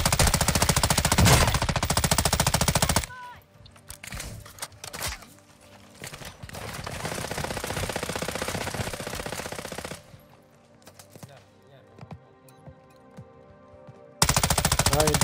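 Automatic gunfire in Call of Duty: Modern Warfare II Warzone 2.0 DMZ: loud, rapid bursts open and close the clip, with quieter scattered shots and game ambience in between.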